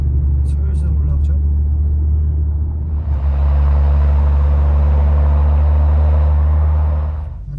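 Cabin sound from an Audi A7 C8 55TFSI while driving: a deep, steady engine and road rumble that swells louder partway through, with a person talking over it.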